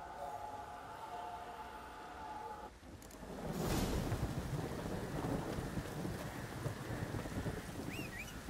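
Rain and thunder in the video game The Witcher 3: steady rainfall patters, then a loud crack of thunder breaks in partway through and rolls into a sustained rumble under continuing heavy rain.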